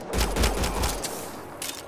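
Rapid bursts of gunfire from the sci-fi shooter Mass Effect: Andromeda, a dense volley of loud close shots in the first second that thins into scattered, fainter reports with background game ambience.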